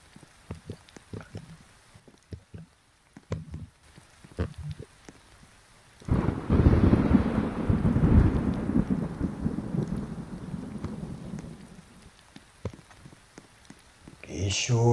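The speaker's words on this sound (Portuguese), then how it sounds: "chuva é essa?" Heavy rain with rumbling thunder, a dense broadband roar swelling loud midway and holding, with scattered talk and crowd sounds faint before it.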